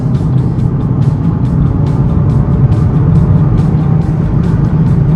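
A 2015 third-generation Mazdaspeed3 pulling hard in third gear, a loud continuous engine drone from inside the cabin with steady road roar and no speech.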